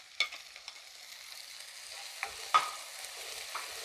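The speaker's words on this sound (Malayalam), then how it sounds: "നമ്മുടെ സവോളയൊക്കെ വഴന്ന് വരുന്നുണ്ട് ആ സമയത്തേ ഇതാ ഒരു തക്കാളി അതങ്ങോട്ട് ഇട്ട് കൊടുക്കുക" Tomato dropped into a pan of softened sautéed onions gives a faint, steady sizzle with a few soft stirring knocks and one sharper clink; no voices.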